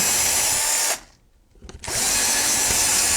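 A power drill boring a hole whirs loudly and steadily, briefly drops away for about a second, then spins back up to full, close-up grinding.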